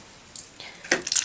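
Cold water running briefly from a bathroom tap, a soft close splash that swells in short bursts near the end with no talking.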